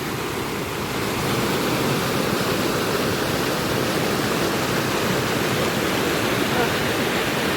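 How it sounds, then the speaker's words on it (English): Still Creek Big Waterfall in Linville Gorge on an October hike, a steady loud broadband roar of falling water that holds constant throughout, close by with no other sounds standing out. "the waterfall on the map, Still Creek Big Waterfall, that is the best view I can see of it"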